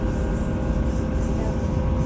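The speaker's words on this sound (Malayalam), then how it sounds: "ഇതാണ് ലോക്കൽ ട്രെയിൻ" Steady low rumble of a local train in Poland, heard from inside the carriage as it runs along in summer, a continuous dense drone with no voices.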